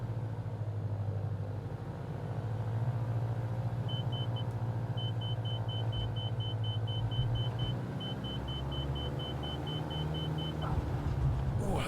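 Steady engine drone of an aircraft in a flight video game as the throttle is eased back, a continuous even hum with a thin high whine running through it, no talking.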